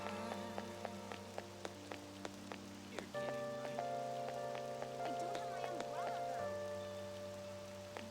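Steady rain in the video game Persona 5 Royal patters across the whole stretch beneath a sustained musical drone, with occasional sharper drips and a shift in tone midway.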